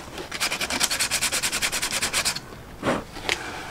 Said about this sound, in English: start sanding down the edge for the beer bottle, and start tidying up the edges for the wine glass as well